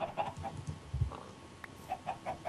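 Chickens cluck on a farm in a Minecraft FTB TechWorld 2 modpack, soft repeated clucks and low murmurs that come and go over a quiet background.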